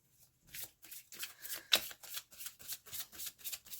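A deck of oracle cards is shuffled close by, a quiet, evenly spaced run of about a dozen papery riffling slaps with one sharper snap near the middle, no talk over it.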